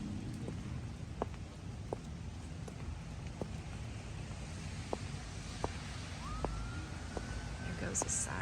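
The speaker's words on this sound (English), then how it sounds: "There goes a siren." An emergency vehicle siren wails faintly in the distance on a Sunday morning at Fountain Square in downtown Bowling Green, Kentucky, rising over steady outdoor traffic hum and scattered ticks.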